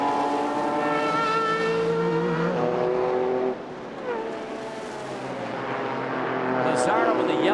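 Race cars at the 1998 Petit Le Mans, including a Ferrari and a Yost Porsche, scream past with high, rising and falling engine whines, loud and layered, under continuous commentary.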